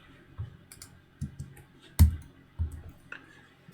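A computer keyboard is being used to type numbers and press enter, giving a handful of separate, close clicks and taps spread unevenly across a quiet background.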